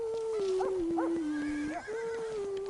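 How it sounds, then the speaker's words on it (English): An animated horse neighs repeatedly in quick whinnying bursts over a steady tone, with light hoofbeats mixed underneath, and no one speaking. "Isn't that your dad riding the horse?"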